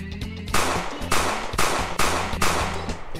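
Four loud, evenly spaced gunshots ring out in a Mario game played with a gun, each a sharp broadband blast over a steady synth music bed.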